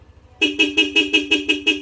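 A Yamaha Aerox V3 scooter horn sounds eight rapid, evenly spaced toots after a short pause, loud and close with no voices.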